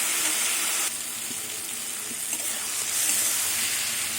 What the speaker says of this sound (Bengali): এবার জল দেবো অল্প করে।